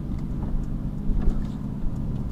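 A Ford Mustang with a naturally aspirated 5-litre engine, heard as a steady low engine rumble close by without any revving.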